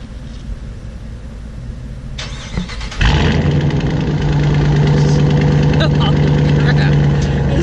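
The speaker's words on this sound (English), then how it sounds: "Let's fire it up. We ended up getting the mufflers deleted." A 2017 Dodge Charger Daytona with deleted mufflers cranks and fires up about three seconds in, then settles into a loud, deep, rumbling idle heard up close.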